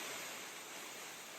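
Steady broadband rush of the Valaste waterfall in Estonia, water pouring continuously and loudly with no pauses, filling the scene close by.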